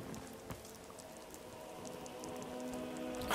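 Rain falling in the Skyrim video game, a steady soft patter of drops spread evenly across the clip, faint and constant with no voices over it.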